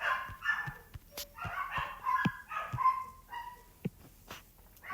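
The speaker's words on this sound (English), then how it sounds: "enjoy the barking of my furry friends" Several dogs bark at close range in a quick, uneven series of sharp woofs and yips with short gaps between, moderately loud and with no talking.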